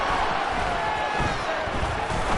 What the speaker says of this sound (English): This crowd urging on their defense.